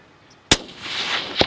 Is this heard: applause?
no